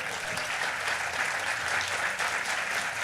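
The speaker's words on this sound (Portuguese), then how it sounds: "Levanta aí, Gerson, para os aplausos." An audience at a literary event applauds a former president as he stands, a dense, even wash of clapping that carries on steadily throughout, fairly faint and distant, with no speech over it.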